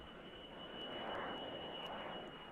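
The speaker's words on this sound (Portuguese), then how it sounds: "um esquadrão de aviões de caça já sobrevoa a capital" Military fighter jets pass overhead above a capital city, a broad roaring rumble that swells toward the middle and slowly fades, heard alone at a moderate distance.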